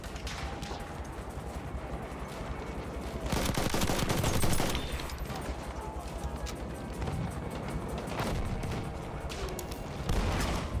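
Sniper rifle and other gunfire in a desert town battle in Battlefield 1, with loud sharp shots scattered through a constant din of combat, the heaviest burst around the middle.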